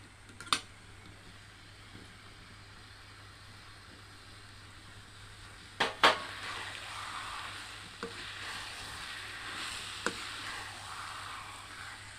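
Soft, steady sizzling of elephant apple chutney frying in a pan with jaggery, faint and close, with a few sharp clicks and clatters of utensils.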